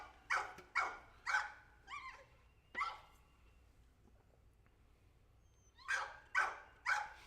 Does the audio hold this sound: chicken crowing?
no